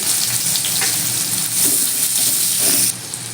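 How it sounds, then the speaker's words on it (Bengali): Dried red chilli and onion dropped into hot oil as a Bengali tempering, a loud, steady close-up sizzle and crackle that fades suddenly near the end. "এবার ওই তেলের মধ্যে একটা শুকনো লঙ্কা একটা পেঁয়াজ ফোড়ন দিয়ে দিচ্ছি"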